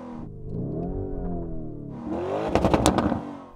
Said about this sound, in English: Yanni, let's hear the Lambo.